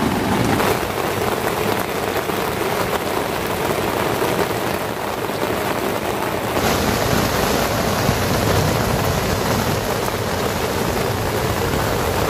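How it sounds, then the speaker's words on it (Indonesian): Heavy rain drums on an old tent at a campsite in a downpour, a dense, loud, continuous hiss that fills the whole twelve seconds with no letup. "Hujannya berhenti mengecil sih, dan ya beginilah hasilnya."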